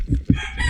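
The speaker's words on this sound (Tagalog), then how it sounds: "Andyan na naman ang pasaway na manok." A rooster crows once, a short, strained call rising out of low rumbling background noise.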